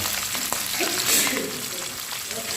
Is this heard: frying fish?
yes